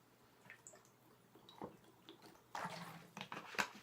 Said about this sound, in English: excuse me while I have a little slurp of water